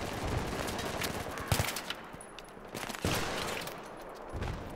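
Rapid gunfire bursts in Battlefield 3, loud and dense with sharp repeated shots through most of the stretch, a brief lull near the middle before firing resumes.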